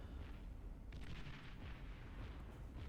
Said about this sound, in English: I can hear more shots going off.